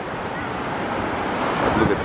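Ocean surf at Boracay beach in the Philippines, a loud continuous wash of waves with strong wind buffeting the microphone, steady and close throughout.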